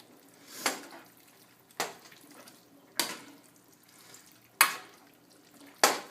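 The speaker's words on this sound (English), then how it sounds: "So I'm going to add this, and I'm going to stir this around." Cooked pasta being stirred into a pot of meat sauce, with five separate wet, squelching sweeps at roughly even intervals, each fading out before the next, close and fairly quiet.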